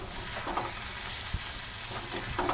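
Eggplant fries with chili powder while being stirred, a constant dense sizzle under soft periodic scraping strokes of a spoon against the pan, close and even in level, no voices.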